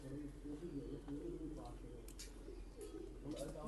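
A pigeon coos in low, repeated rolling calls close by, with a voice talking over it and a steady hum underneath.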